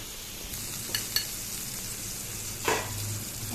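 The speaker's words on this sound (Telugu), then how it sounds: "ఆమ్లెట్ వేసుకుంటున్నాం అండి" Omelette batter with coriander and onion frying in butter in a pan, a steady broadband sizzle with a few sharp clicks of a utensil and a brief louder hiss burst near the end, no talking.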